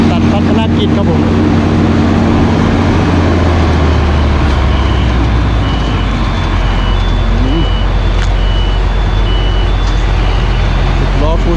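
A Fuso ten-wheel truck being loaded with cut sugarcane gives a loud, steady engine drone and rumble, with intermittent reversing-style beeps and heavy machinery noise running throughout.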